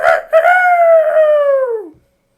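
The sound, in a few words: child imitating Peter Pan's rooster-like crow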